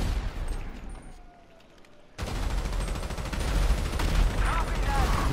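Explosive-ammo gunfire erupts in the video game GTA 5, a dense burst of loud blasts and shots starting abruptly after a quieter stretch and continuing as chaotic rapid fire.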